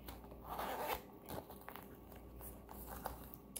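Zipper on a fabric travel organizer drawn open in a quick close-up rasp, then soft crinkling, rustling and handling clicks of the material.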